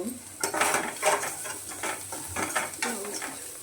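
Boiled Maggi noodles are stirred into fried onions in a pan, making repeated close scraping and clinking strokes of a utensil against the pan over a soft, low sizzle.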